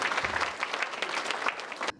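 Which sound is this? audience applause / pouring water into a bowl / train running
audience applause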